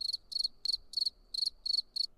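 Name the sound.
crickets chirping sound effect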